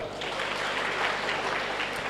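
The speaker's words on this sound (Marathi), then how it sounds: "त्यांच्यासाठी एकदा टाळ्या वाजवा." An audience at a political rally claps for an arriving youth wing state president, a short dense burst of applause from a crowd of many hands, steady and fairly loud throughout, with no one speaking over it.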